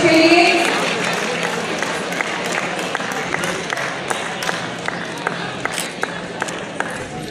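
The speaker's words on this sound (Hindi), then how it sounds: "पेरेंट्स को भी खोल रहे हैं जोरदार तालियां सभी बच्चों के लिए" Audience applause for children at a national quiz competition, a dense sustained wash of clapping from a crowd, loudest at the start and then steady with scattered sharper claps throughout.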